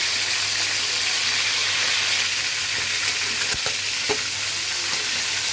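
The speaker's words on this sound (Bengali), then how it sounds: "এখন হালকা করে ভেজে নেব। একটু লবণ মাখিয়ে রেখেছি।" Salted chicken pieces frying lightly in a pan of oil, a loud, steady close-up sizzle with a couple of brief knocks as the pieces shift.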